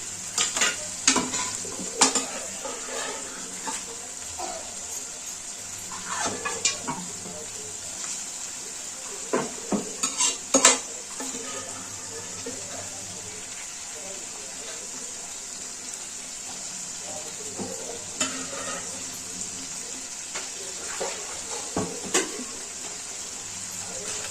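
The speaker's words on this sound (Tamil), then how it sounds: "அந்த மசாலையில் நம்ம மட்டன் எடுத்து வச்சுருக்கிறோம், அதை நம்ம போட்டுக்கலாம்." Mutton frying and being stirred in masala in a pan, a steady sizzle broken by scraping spoon strokes and occasional clatter, with a soft voice now and then.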